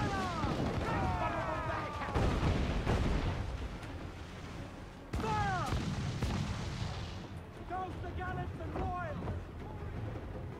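Ship cannons fire in the pirate video game Assassin's Creed Black Flag, with heavy booming volleys over constant sea and wind rumble. Crew voices shout orders through the barrage.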